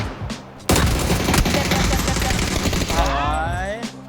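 Dense bursts of automatic gunfire crackle in PUBG, a sustained loud fusillade of rapid shots with booms layered over it, close and intense, ending with a faint voice beneath.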